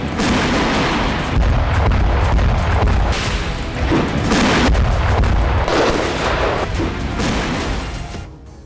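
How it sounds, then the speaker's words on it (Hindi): Russian tanks and artillery fire in the Russia-Ukraine war, a loud, dense barrage of heavy booms and bursts rolling almost without pause, then fading slightly at the very end. "यहां रूस के सैनिक टैंक और आर्टिलरी से प्रहार कर रहे हैं।"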